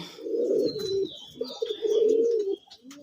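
Deep, throaty cooing from a male sky-blue Raj Golla pigeon in two long rolling phrases, close and clear, with faint background chatter from other birds.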